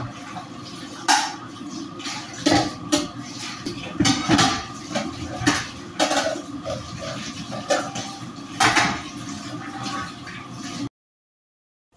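Dishes and plates being washed with soap in a shared accommodation kitchen in the UAE, with repeated clinks and clatters of crockery over running water, loud and close, then abrupt silence at the end.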